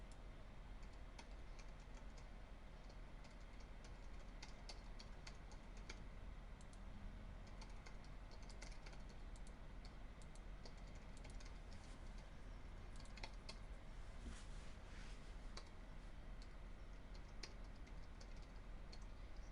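Faint, continuous typing on a computer keyboard during a Windows Server 70-410 lab setup, soft scattered keystrokes ticking over a low steady hum for nearly twenty seconds.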